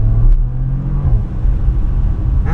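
A Porsche Macan Turbo engine accelerates, with a loud, steady low rumble and a rising drone heard from the cabin.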